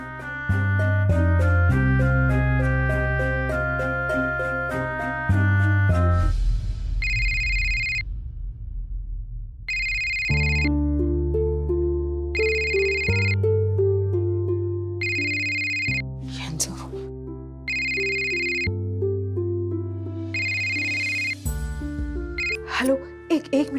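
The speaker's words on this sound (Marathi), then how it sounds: "मला आता अश्विनीला फोन करावा लागणार." A phone rings during an outgoing call in a Marathi TV serial scene: repeated electronic ringing tones pulse over a melodic backing, loud and close, with no talk.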